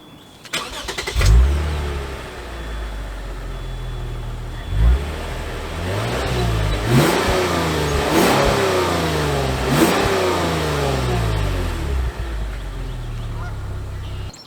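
A 2022 Lexus IS350 F Sport engine revs up sharply several times outside, its exhaust note rising and falling in loud, close bursts with short pauses between.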